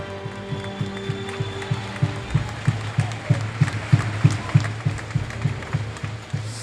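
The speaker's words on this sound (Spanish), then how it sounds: "Fuerte o aplauso." An audience at a men's Final Four basketball trophy ceremony gives steady, rhythmic clapping in unison, a regular beat of claps that builds and continues over a murmuring hall.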